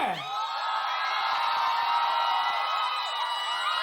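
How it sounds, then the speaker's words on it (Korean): A crowd at an outdoor mountain-village concert cheers and whoops to welcome a rock singer, a sustained, bright roar of voices that holds steady throughout. "신사숙녀 여러분, 큰 박수로 맞아주십시오"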